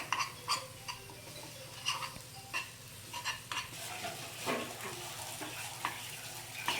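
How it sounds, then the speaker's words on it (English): Moong dal kachori filling mixture with flour being stirred in a pan: a faint, continuous sizzle with repeated soft scraping and tapping strokes of a spoon against the pan, unhurried and steady, with no voices. "Now I am just stirring my mixture like this, because if you keep on stirring, that will avoid sticking the mixture to the pan."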